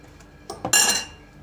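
Honey cake batter with jam and oil being stirred in a bowl, a few close clinks and scrapes of a spoon against the dish over about a second, then quiet.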